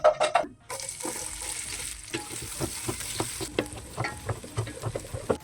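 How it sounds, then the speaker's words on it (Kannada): Sliced onions hit hot oil already fried with star anise, cloves, cinnamon and cardamom for Ambur chicken biryani, bursting into a loud close sizzle after a brief clatter, with stirring scrapes throughout. "ಇವಾಗ ಈರುಳ್ಳಿಯನ್ನು ಹಾಕೊಂಡು ಫ್ರೈ ಮಾಡ್ಕೊಳ್ಳೋಣ."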